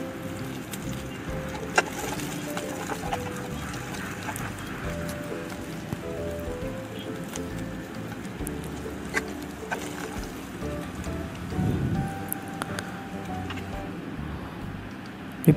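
Sliced onions and dried red chillies fry in a pan in a continuous soft crackle and hiss, with scattered small pops and faint clinks throughout.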